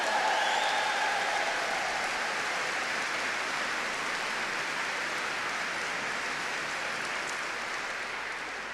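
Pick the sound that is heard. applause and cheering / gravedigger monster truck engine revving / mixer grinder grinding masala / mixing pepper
applause and cheering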